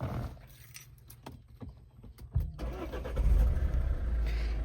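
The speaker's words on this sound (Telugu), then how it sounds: "ఇంజన్ అనేది ఆన్ అవుతుంది" A few light clicks and jangles, then a 2017 Maruti Suzuki S-Cross Alpha 1.6L diesel engine cranks and catches, settling into a loud, low rumbling idle close by.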